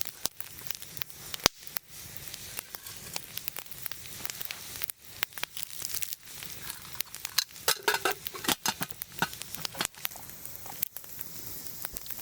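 A metal fork clinks and scrapes in a cup of Mr. Noodle instant soup at an overnight hammock camp with a canvas tent and woodstove. Sharp clicks and taps repeat irregularly, close by, over a low crackling background and no speech.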